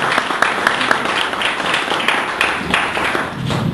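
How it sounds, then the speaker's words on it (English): A lecture audience claps for a guest speaker on urban media, steady dense applause that holds at an even level throughout without pause. "So if we can have a round of applause for our speaker"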